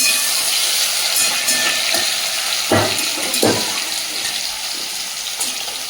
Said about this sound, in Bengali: হলুদ গুঁড়ো, একটু জল দিয়ে দেবো।